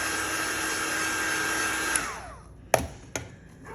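Heat tool or dryer blowing on spray-inked paper scraps, a loud steady whir close by that winds down and stops, followed by two sharp knocks.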